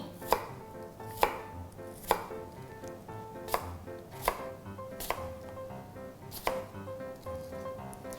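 A knife chops steadily through apple onto a cutting board, sharp evenly spaced thuds about once a second, close up, with no voices.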